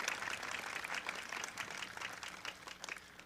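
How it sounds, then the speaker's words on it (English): Audience applause at a university convocation ceremony, a steady patter of many hands clapping that sounds fairly distant and soft, fading a little near the end. "I agree, that deserves a round of applause"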